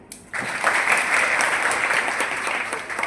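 Audience applause honouring mothers at a gathering, clapping bursting in after a short quiet moment and holding steady, dense and even, tapering slightly at the close.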